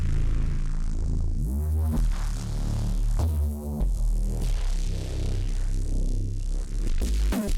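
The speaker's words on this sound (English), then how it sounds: "So here is the new bass." A new bass line on a Europa synthesizer plays as a dense, loud, sustained synth part with thick low harmonics and shifting tones, continuing steadily without any voice over it.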